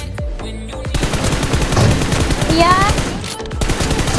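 Rapid automatic gunfire from a team-based shooter video game rattles loud and close through most of the stretch, with someone talking over it in bursts.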